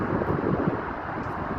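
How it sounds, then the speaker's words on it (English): Wind blows hard into the microphone outdoors near downtown Dallas during a building demolition, a steady low rumbling roar with no other clear sounds. "It's windy out here, so"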